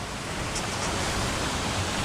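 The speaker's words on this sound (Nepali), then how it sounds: "झरना हेर" Baspani waterfall in a hilly nature spot, heard up close as a loud, unbroken broadband roar of falling water with no gaps and no voices.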